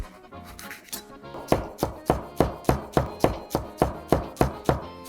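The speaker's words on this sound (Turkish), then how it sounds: "Kapya biber. Bunu da incecik keseceğiz." A knife finely slices red bell pepper on a cutting board, starting with a few scattered cuts and then settling into a quick, even run of crisp, close chops with no talking.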